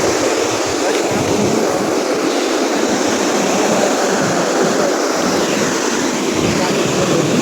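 Fast-flowing water rushes through a village stream with stone and earth banks, a steady, loud broadband roar throughout with no breaks.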